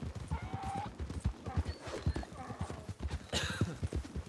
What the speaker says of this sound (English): It's a mule.